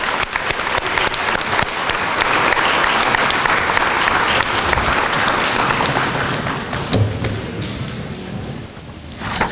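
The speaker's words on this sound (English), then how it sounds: "Let's give these students another round of applause." An awards-night audience gives a long, loud round of applause for students, a dense continuous clapping crowd that holds steady and tapers only slightly near the end.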